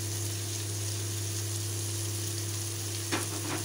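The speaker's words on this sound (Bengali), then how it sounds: "এখন এর মধ্যে আমরা ধনিয়া পাতা দিচ্ছি।" Coriander leaves dropped into frying cauliflower bring a steady, close oil sizzle that runs throughout, with a brief stirring scrape near the end.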